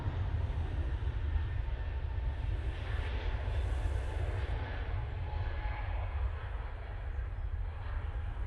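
A Ryanair jet bound for Lanzarote on final approach into Manchester Airport gives a low, continuous engine rumble, fairly distant and steady throughout with a faint higher whine above it.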